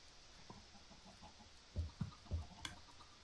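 Chickens on a Minecraft chicken farm give a few short, soft clucks in quick succession midway through, faint over a quiet background.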